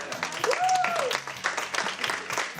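Studio audience applauding during a cheque presentation on a Canarian television show, a steady patter of clapping throughout with a voice speaking over it.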